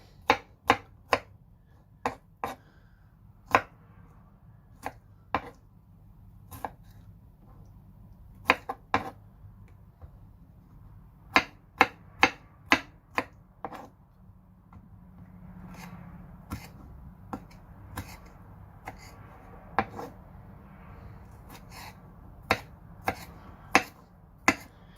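A knife slices through tomatoes on a cutting board, beefy tomatoes among them, each cut a sharp close tap on the board. The taps come in quick clusters with short pauses between, over a faint low background hum, and nobody speaks.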